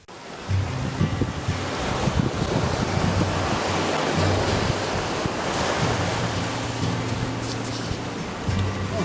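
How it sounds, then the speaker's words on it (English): Sea waves wash continuously against the Nova Scotia shore on a spring morning, a loud broadband roar mixed with gusty wind buffeting the microphone, with no voices. "I'm here by the sea"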